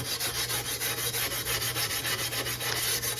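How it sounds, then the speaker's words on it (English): Coarse steel wool scrubs surface rust off a machete blade in quick, even back-and-forth strokes, a close, harsh scratching rhythm with no speech. "So you can see what I'm doing is just taking off some of that surface rust."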